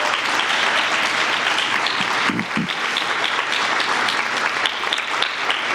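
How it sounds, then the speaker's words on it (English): An audience at a poetry night applauds for the readers, a thick, continuous wash of many hands clapping that carries on steadily throughout. "Can we hear a round of applause for all of them?"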